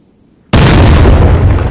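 Cannon firing round shot in the game Guts and Blackpowder: after a brief quiet, a single loud, close blast booms out and rumbles on without fading.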